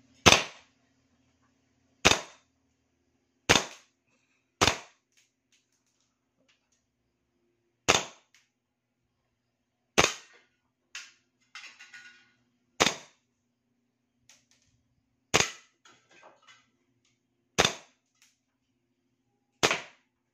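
A Hi Capa toy pistol fires a series of sharp, loud single cracks at irregular intervals of one to three seconds, with faint mechanical clicks between shots in a quiet room.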